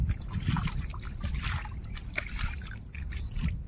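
Hands are washed outdoors with cold water, giving a soft, steady trickle and splash at close range, with a voice speaking briefly underneath.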